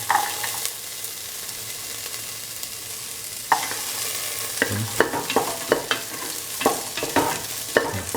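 Shallots, garlic and ginger fry in a hot pan for a cauliflower and scrambled egg stir-fry, giving a steady close sizzle with a louder burst partway through, then repeated scraping and stirring clatters.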